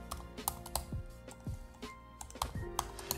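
Quiet clicks of typing a search on a computer keyboard, a few scattered keystrokes in an irregular rhythm, close and faint with no talk.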